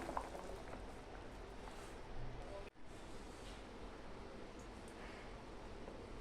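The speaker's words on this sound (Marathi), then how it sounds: "तुम्ही पाहू शकता सांबारला चांगली उकळी आलेली आहे." Pot of sambar with drumsticks and pumpkin boiling, a steady soft bubbling hiss that stays faint and continuous, with a brief dropout partway through.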